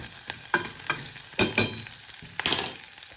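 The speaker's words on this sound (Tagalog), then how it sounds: "At saka halu-haluin lang hanggang maluto." Chicken liver adobo with plenty of onions sizzling in a pan while being stirred, with repeated scraping strokes over a steady frying hiss, close and moderately loud, no talking.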